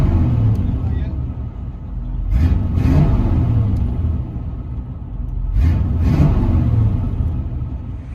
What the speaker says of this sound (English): There she is. 78 Camaro. FLOWMASTER 40s.